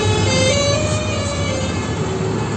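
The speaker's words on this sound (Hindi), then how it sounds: "आगे से आगे एम्बुलेंस।" An ambulance siren on a road near Jhalawar, loud and close, holding a steady wailing tone over the rumble of traffic without pause.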